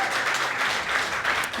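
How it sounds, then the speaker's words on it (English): Live applause from a studio audience at a university challenge grand finale award ceremony, a dense steady patter of many hands clapping throughout, moderately loud with no voices over it. "Love the live applause in this studio"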